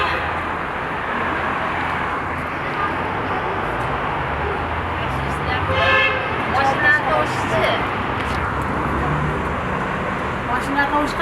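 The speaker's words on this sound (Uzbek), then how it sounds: "Mashina tovushi qanday eshitilyapti?" Continuous roar of street traffic with passing cars and several short car-horn toots, one cluster standing out midway, while voices murmur faintly in the background.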